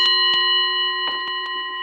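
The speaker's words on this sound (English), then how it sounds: "At the sound of the bell," A bell rung to open a guided deep-breathing exercise, a sustained ringing tone that slowly decays, with a few soft knocks and taps, close and alone without talk.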